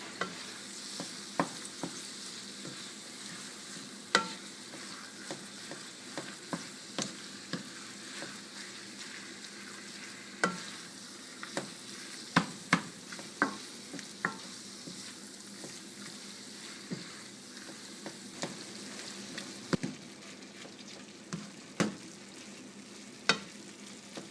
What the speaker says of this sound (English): when the onions are sauteed, I will put the meat in there and saute that